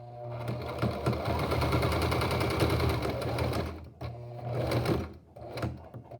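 A sewing machine runs a steady, close stitching burst over a hemmed piece of fabric, pausing briefly near the end before a shorter final run.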